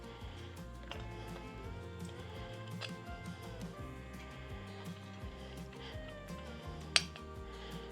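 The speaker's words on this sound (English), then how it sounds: "get a small spoon and just go ahead and start filling up your apples" A small spoon clinks and scrapes against a Dutch oven while stuffing is spooned into apples, giving faint scattered taps and clicks with one sharper knock near the end, over a quiet low hum.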